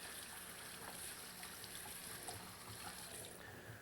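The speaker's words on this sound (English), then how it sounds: "Now I'm going to run some cold water over them to stop the cooking, and also that sets the green color." Cold water runs steadily from a kitchen tap over cooked Brussels sprouts, a soft, continuous rushing splash that stays even throughout, with no one speaking.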